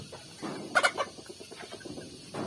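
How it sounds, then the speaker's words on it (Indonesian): Free-range village chickens clucking in short, uneven bursts, one hen calling to the flock with a brief louder squawk near the middle, close and moderately loud over a quiet yard. "Contoh, ayam bunyi, lagi manggil temannya tuh."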